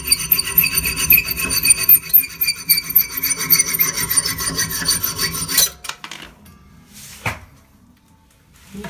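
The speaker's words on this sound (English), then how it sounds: "Next I'm going to take a mini handsaw and trim these bolts down so the China caps will fit on top." A mini handsaw cuts down toilet bolts during a toilet installation, making a steady, close back-and-forth rasping for several seconds. The cutting then stops, leaving a few small clicks and knocks in near silence.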